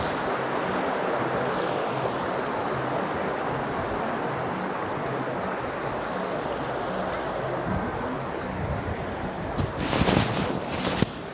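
A river in the Atlas Mountains near Ourika rushes past during a crossing, a steady broad wash of flowing water heard close, with louder splashy bursts near the end and talk mixed in.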